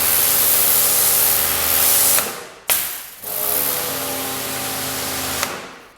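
A Kärcher pressure washer sprays with a loud, steady hiss over a low motor hum, cutting out briefly twice before resuming.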